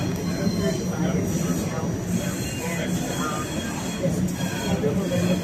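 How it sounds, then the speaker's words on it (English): A train pulls away from a station on a rail line, producing a steady rumble of wheels with faint squeal and rattling from the cars, continuous and fairly loud throughout. "we would get off and watch the train depart"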